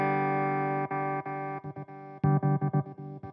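Electric guitar played through a Yamaha GW10 multi-effects unit on its lowest-gain overdrive setting: a sustained distorted chord that breaks into a series of quick choppy strums, clear and alone.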